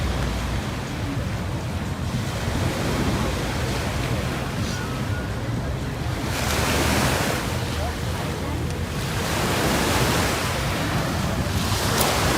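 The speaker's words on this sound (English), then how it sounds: "You can sit on the beach." Ocean waves wash onto a beach in Dubai at night, a broad continuous rush that swells and recedes in slow surges, with wind buffeting the microphone.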